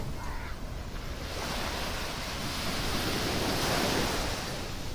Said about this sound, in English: Back on the beach again now.